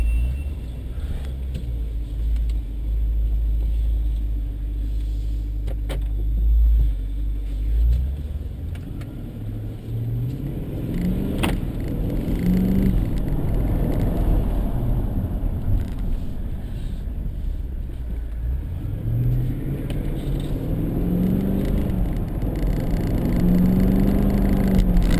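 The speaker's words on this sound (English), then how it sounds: "let's take this Jeep for a drive" A supercharged 2014 Jeep SRT8 Grand Cherokee drives along. The low engine rumble rises and falls through gear changes and is mixed with wind and road noise, heard from inside without voices.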